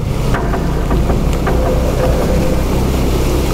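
A Honda PCX 160 scooter engine roars loud and steady while riding through floodwater on a North Luzon road, its drone mixed with heavy wind buffeting the microphone throughout.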